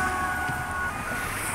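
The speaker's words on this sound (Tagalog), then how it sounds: "Ambulansya po yun." An ambulance siren wails steadily at a moderate distance on a street in Italy, its tone holding over a dense background of traffic and street noise.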